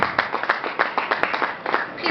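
An audience claps for a panelist at a conference, a short run of fairly close, distinct claps in an uneven rhythm.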